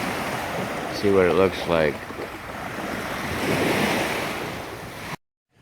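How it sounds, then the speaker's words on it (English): Baltic Sea surf at Sopot rushes steadily in a broad wash with wind buffeting the microphone, swelling louder toward the end, while a person speaks briefly early on. "We are now by the Baltic Sea in Sopot"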